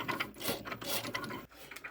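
A Cricut cutting machine works through a rhinestone template material, giving a close, steady mechanical whirring with rapid ratcheting clicks and small shifting pulses as the carriage moves.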